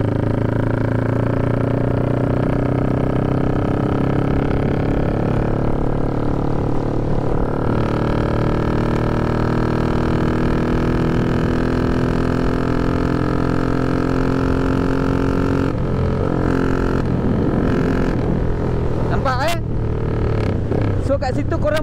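Motorcycle ridden in sixth gear on the new WCE highway between Klang and Assam Jawa, Selangor: a steady, loud engine drone with a layered harmonic hum and road rush, the pitch shifting and surging near the end.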